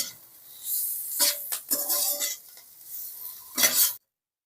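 Chili chicken is stirred and lightly fried in a pan, with a steady soft sizzle broken by several scraping, clinking strokes of a spoon against the metal, close up and with no talking.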